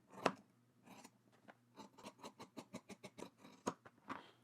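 Scissors trimming down a sewn fabric seam, a run of short crisp snips close by, spaced irregularly at first and then quickening into a fairly even series of cuts, with no voices.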